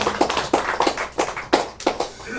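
A church congregation claps in a loose, uneven burst of sharp hand claps, moderately close, with no steady rhythm and no talking.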